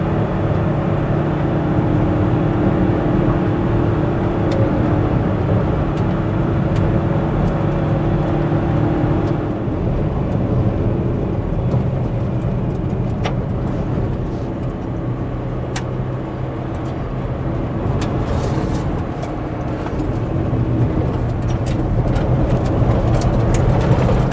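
A car fitted with 14-inch tires driving on gravel, heard from inside as a loud, continuous rumble of tires and engine with faint crackling of stones throughout, no speech.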